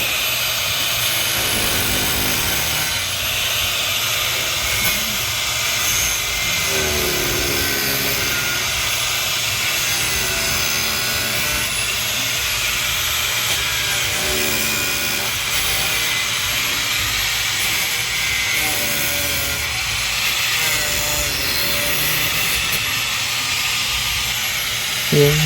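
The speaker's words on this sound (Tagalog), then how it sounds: "Then pinutol natin ng grinder" A grinder cuts off the heads of leftover blind rivets, making a loud, steady, broadband whine and hiss that runs unbroken the whole time.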